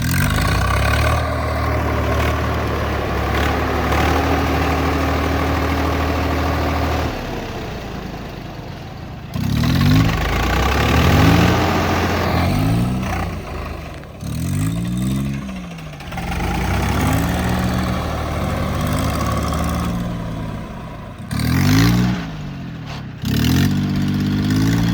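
A 4x4 tractor engine stuck in mud runs loudly up close, holding a steady drone before surging in repeated rev bursts that rise and fall.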